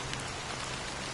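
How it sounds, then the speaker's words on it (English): Steady rain pours down throughout a dark scene in the video game Morkill Ragast's Rage, a dense, even hiss of drops striking surfaces with no break and no voices. "So, how long has this rain been going on for?"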